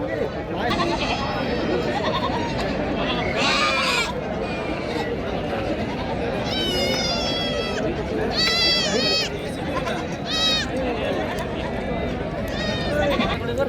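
Several goats bleat repeatedly, some close and loud, while people chat in the background at a weekly farmers' market in Maharashtra.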